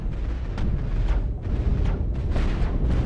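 Spaceship cannons fire in a space combat game, a steady barrage of booming shots and explosions, several sharp bursts over a continuous rumbling background with no talking.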